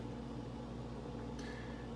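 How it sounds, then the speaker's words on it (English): Steady low hum of a running microwave oven heating a hot dog with cheese, a constant droning tone with faint whirring, near and unchanging, with a brief light clink partway through. "put the hot dog in the microwave for an additional 20 seconds"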